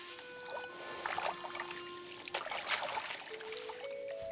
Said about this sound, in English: The forest streams provide the perfect place for them to bathe.